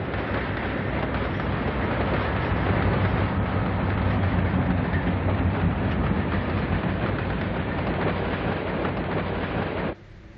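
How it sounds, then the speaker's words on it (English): A C&WI switcher locomotive hauls a string of Grand Trunk Western railroad cars out of Dearborn Station, a loud, steady rumble and grind of engine and rolling wagons that runs on continuously before cutting off abruptly near the end. "On the adjacent track, a string of Grand Trunk Western cars behind another C&WI switcher"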